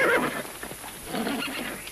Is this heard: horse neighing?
yes